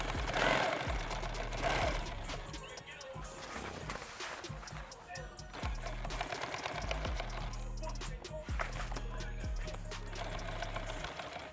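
Sewing machine stitching nylon webbing on a homemade SOE rifle case, running in short bursts of rapid mechanical chatter with pauses between runs, close and moderately loud, with someone talking over parts of it.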